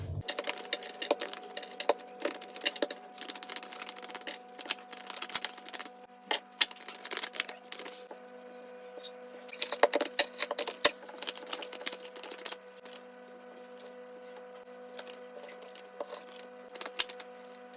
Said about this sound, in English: I'll start by shuffling out the cards